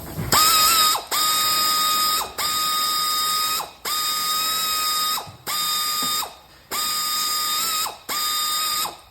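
Ratchet wrench tightening a long door panel bolt on a Dodge Grand Caravan, clicking in six steady bursts of rapid pawl ticks, each about a second long with short pauses between, close and clear.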